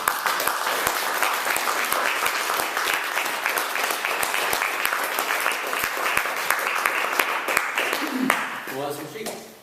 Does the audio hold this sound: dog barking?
no